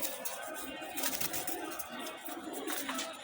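Pigeon chicks set out in the sun give soft, faint coos against a hissy background, with low murmurs repeating through the short stretch.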